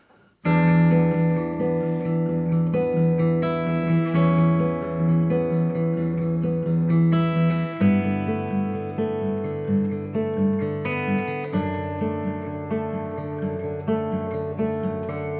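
Steady guitar chords strummed in a repeating world-music-style progression, with a single fingerpicked melody note ringing over them, close and clear with no voices.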